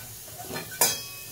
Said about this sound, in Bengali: দেখো বাদ বাকি আলুটাও এরপরে ভেজে নিচ্ছি।